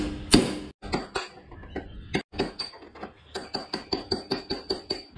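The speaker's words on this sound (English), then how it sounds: "Use your hammer to remove the bottom race." Sharp metallic hammer strikes on a punch ring out, knocking a bicycle headset's bottom bearing race from the frame: a few spaced blows followed by a quicker, even series of knocks on metal.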